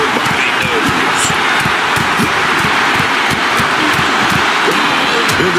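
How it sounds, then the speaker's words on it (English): A capacity arena crowd in the WWE 2K26 wrestling video game cheers in a dense, continuous roar, loud and sustained throughout, with sharp repeated impacts punctuating it. "this exchange is whipping this capacity crowd into a frenzy"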